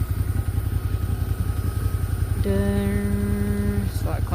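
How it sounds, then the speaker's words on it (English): Suzuki Gladius motorcycle idles with a steady low rumble while a separate constant whining tone rises from the tank area for over a second, close and moderately loud. "There's a strange noise coming from my tank"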